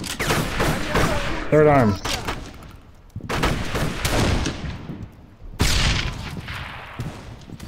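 Gunfire bursts in the video game Darkest of Days, several sharp shots and booms spread across the clip, interleaved with someone talking.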